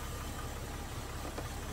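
Engine of a 2000 Jeep Grand Cherokee running steadily while warming up, a quiet, even idle hum with a faint knocking texture.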